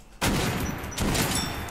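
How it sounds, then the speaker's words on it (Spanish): Two loud shotgun blasts in the video game Metro Last Light Redux, each a sharp close boom with a ringing tail, the second following about a second after the first. "Se dan dos balazos"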